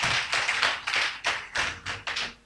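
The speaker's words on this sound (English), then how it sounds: "clap your hands for the Lord Jesus." Close hand clapping at a church deliverance service: about nine sharp, loud claps in a fairly steady rhythm, each ringing briefly, with no talking over them.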